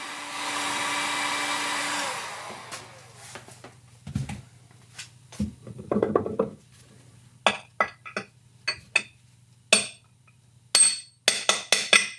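Small metal shims fall from a BMW Airhead motorcycle transmission during disassembly, giving a series of sharp, bright clinks and taps at irregular intervals after a brief hiss, close by and otherwise quiet.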